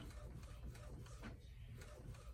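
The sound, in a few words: DTF printer printing a nozzle check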